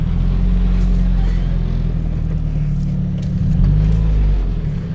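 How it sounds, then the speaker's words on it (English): A turbocharged Honda Civic EG rolls slowly into a garage, its engine a loud, steady low rumble that swells slightly near the end, with a faint voice in the background. "if I can drive in the garage without it hitting"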